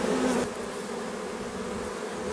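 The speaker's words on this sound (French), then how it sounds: "on peut voir les abeilles devant et battre le rappel" Honeybees fanning at the hive entrance to draw swarm mates inside, a continuous thick buzz close by, slightly louder in the first half-second then holding steady.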